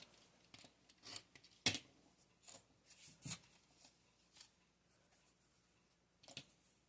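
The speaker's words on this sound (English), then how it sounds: "I'm going to trim that off." Scissors snip through quilting fabric while trimming pieces of a snowflake quilt block, a sparse series of short, crisp cuts spaced irregularly with quiet pauses between them.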